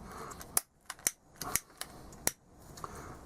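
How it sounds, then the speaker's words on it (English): Scissors or a blade snip through the cut end of a crossbow string, a handful of sharp, quick clicks spread unevenly over a few seconds, close and fairly quiet. "Your next task is to cut off the end."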